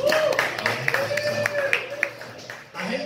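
An audience claps along at a comedy set, quick rhythmic hand claps mixed with crowd voices and talking.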